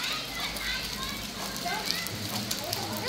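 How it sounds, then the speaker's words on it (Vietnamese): Heavy rain pouring down outdoors, a steady dense hiss, with people and children talking and calling over it nearby. "mưa quá mưa rồi."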